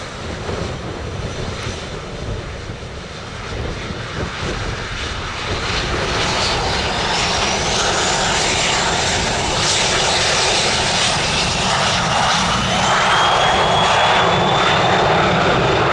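A general aviation airplane takes off from runway 26 left at Spirit of St. Louis Airport, its engine a loud, broad roar that builds and holds steady at close range.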